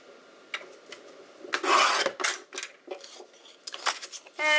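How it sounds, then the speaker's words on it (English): Paper sheet being trimmed on a cutter, with a run of short rasping slides and rubs, one longer louder stroke near the middle, close and fairly quiet, no talking. "I'm going to take my pattern paper and I'm going to trim"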